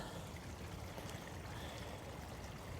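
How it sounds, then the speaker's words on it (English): A small amount of water trickles out of a drainage channel near a clubhouse and pool area, producing a soft, steady flow that stays faint and even, with no voices. "And here it is flowing out,"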